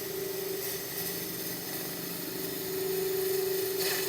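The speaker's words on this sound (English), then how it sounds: "If you want to get a shear cut, you're going to be using the portion of the edge." A gouge takes a shear cut on wood spinning on a lathe, with a steady whirring hum and a soft scraping hiss that runs evenly throughout at close range.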